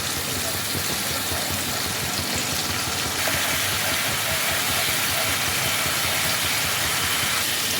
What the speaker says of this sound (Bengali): মশলার পেস্টটা দিয়ে এটাকে ভালো করে কষাতে হবে